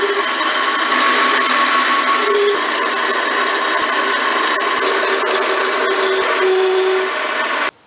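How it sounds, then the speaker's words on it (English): A lathe with a fresh tungsten carbide tip cuts decorative grooves into the stem of a spinning top, a loud continuous whirring drone with brief tonal squeals and faint ticks, ending abruptly. "I've got a fresh tungsten carbide tip loaded up in my tool holder, and I'm going to put a few decorative grooves into the stem"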